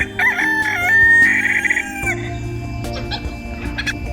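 A rooster crows loudly and close by in a long drawn-out call, followed by scattered clucking from several chickens in a busy farmyard.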